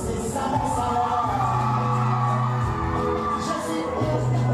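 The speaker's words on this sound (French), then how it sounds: "Alors, donnez-moi des applaudissements, c'est ça mon salaire." A concert crowd in far northern Cameroon cheers, whoops and yells loudly and continuously, with sustained tonal voices shouting over the noise.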